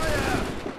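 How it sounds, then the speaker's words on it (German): A musket volley fires in the video game Assassin's Creed 3, a short dense burst of overlapping shots that quickly fades, loud and alone. "Wir müssen immer dann schießen, wenn die gerade zum Schuss anlegen."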